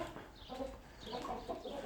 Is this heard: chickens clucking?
yes